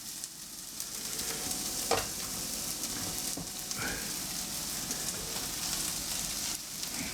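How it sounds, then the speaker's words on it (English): Onions and mushrooms frying in a little oil in a pan, a constant close sizzle and crackle with a few stirring scrapes, no voices. "And we're going to fry them up for 5 minutes"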